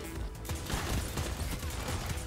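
Rapid hip-fire gunfire from a weapon in the Destiny 2 video game crackles as a dense, continuous burst over a couple of seconds, with no speech.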